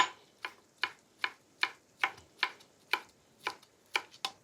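A knife slices through a red pepper on a chopping board, giving about eleven sharp, evenly spaced cuts that knock against the board, close and clear with no talking.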